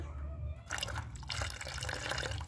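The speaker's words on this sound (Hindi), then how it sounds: "अब मैं इसमें पानी डाल देती हूँ" Water poured into a guinea pig's drinking bottle, a steady trickling and splashing liquid sound that starts after a brief pause and continues at close range against a low background hum.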